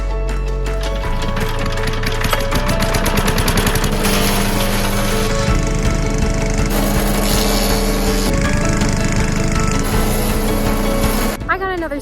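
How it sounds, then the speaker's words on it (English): A wood chipper at a woodland homestead starting up with a stick jammed inside: a loud, close engine roar with heavy mechanical rattling and knocking throughout, then winding down abruptly at the end. "Another stick stuck in the wood chipper"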